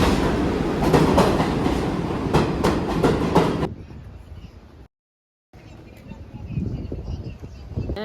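A New York subway train ride: a loud, steady rattling rumble fills the first half, then drops out briefly and returns as a quieter, hollow interior hum.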